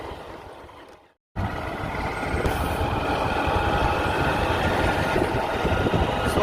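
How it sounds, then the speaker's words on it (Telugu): A train rumbles past a railway level crossing, a steady loud roar of rolling wagons that swells after a brief dropout and continues to the end. "ఇప్పుడే ట్రైన్ వెళ్ళింది అనుకుంటా"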